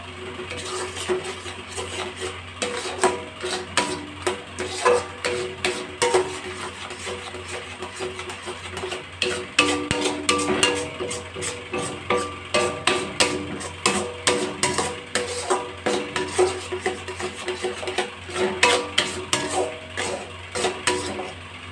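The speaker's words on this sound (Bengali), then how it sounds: "এইভাবে এবার এটা নাড়াচাড়া করতে থাকবো যতক্ষণ না পর্যন্ত এটা একটু শুকোচ্ছে।" A spoon scrapes and knocks against a pan as food is stirred over a low gas flame until it dries, a continuous run of clinking, scraping strokes close by with no talking.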